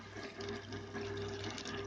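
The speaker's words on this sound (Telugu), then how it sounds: "1/2 గ్లాస్ వాటర్ వేసుకుందామండి." Half a glass of water pours into a pan of potato and capsicum curry, producing a steady, close splashing rush that lasts throughout with no voices.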